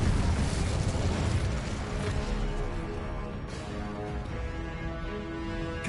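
An Incendio fire spell cast in Hogwarts Legacy gives a loud, sustained roaring whoosh of flame that holds steady for about six seconds, with no talking over it.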